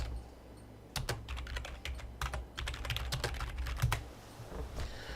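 Fingers type on a computer keyboard in quick irregular bursts of close clicks and taps, with short pauses between runs over a low steady hum.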